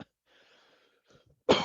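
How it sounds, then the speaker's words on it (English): A single sharp, loud cough bursts out near the end after a stretch of quiet, faint background sound, close to the microphone. "This cough is going to drive me nuts."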